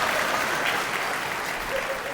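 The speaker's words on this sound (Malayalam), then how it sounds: "നല്ലൊരു ക്ലാപ്പ് കൊടുത്തോ." An audience claps in a dense, even burst of applause that holds steady for a couple of seconds, close and loud, with no talk over it.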